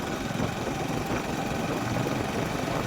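A tractor engine idles steadily with a dense, continuous low rumble that holds even and unbroken throughout, close and fairly loud with no voices over it.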